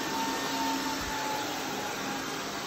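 A Roidmi Neo cordless wet and dry vacuum cleaner runs steadily and loudly at close range, giving a continuous even whine with no speech over it.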